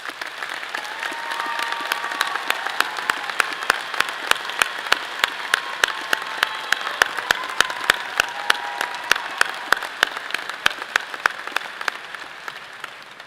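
An audience at a College of Natural Sciences commencement applauds honors program graduates, with sustained, dense clapping that holds steady for about thirteen seconds and then eases slightly at the end.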